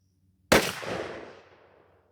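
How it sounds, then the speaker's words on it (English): A single loud, close blast from a Mossberg 500 .410 pump shotgun with a Patternmaster Code Black turkey choke, firing a Herter's 3-inch 3/4 oz #9 TSS load, followed by a long fading outdoor echo. "Well, let's take our shot and see how it performs."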